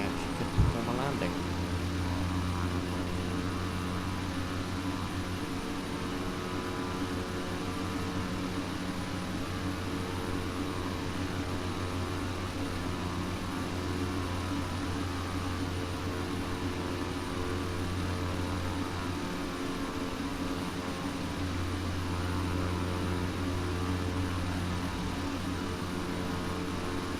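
Aircraft engine drone in the FSX flight simulator game, a steady, even hum with a faint airy hiss holding throughout, after a brief click at the start.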